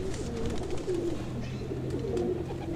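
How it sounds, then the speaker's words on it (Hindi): A Pakistani pigeon with clipped wings, kept in an open breeding loft, gives repeated low, throaty coos in a steady rhythm, fairly close and moderately quiet. "बड़ा ज़बरदस्त कबूतर है"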